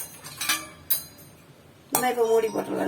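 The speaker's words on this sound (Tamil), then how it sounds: "நம்ம இப்போ இதை மூடி போட்டுடலாம்." A metal lid settles onto a cooking pot of simmering dal, vegetables and colocasia leaves for sambar, giving a few clinks and a louder clattering contact near the end, close and distinct.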